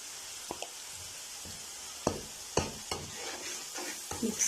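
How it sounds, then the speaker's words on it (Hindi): Ginger garlic paste frying in oil in a pan, a soft sizzle beneath several distinct scraping stirs and spoon clinks, close and fairly quiet, with no talking. "अब इस स्टेज पर हम यहाँ डालेंगे 2 चम्मच जो है वो भरकर अदरक लहसुन का पेस्ट"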